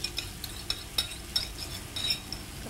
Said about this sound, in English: wood spatula, you kind of stir it, blend it very well